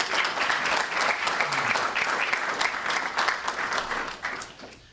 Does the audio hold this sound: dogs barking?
no